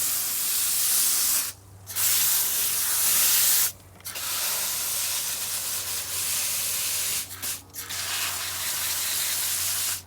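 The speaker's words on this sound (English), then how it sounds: "Try not to spray the leaves directly, especially when it's sunny" A garden hose sprays water over plants in a garden with pumpkins, a steady close hiss that breaks off three times in short gaps before resuming, with no talking.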